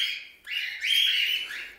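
Cockatiels call in a colony breeding room, giving a couple of loud, close, drawn-out whistling screeches one after another, with no voices.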